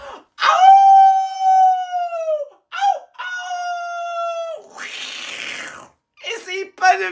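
A man imitates a werewolf howl with his voice, giving two long, sustained, wavering howls up close, followed by shorter breathy vocal bursts.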